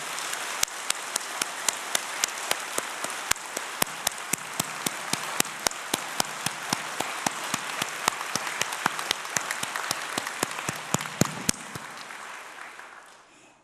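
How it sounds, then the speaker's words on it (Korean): A congregation at a sermon gives warm applause, a long dense patter of many hands clapping that sounds almost like rain. Sharp individual claps stand out above it, and the clapping thins and fades at the end. "뜨거운 박수 한번 보내올렸습니다"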